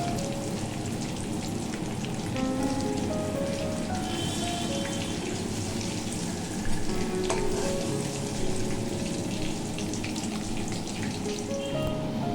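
Fish pieces fry in hot oil with a steady, close crackling sizzle that runs evenly throughout, no voices heard.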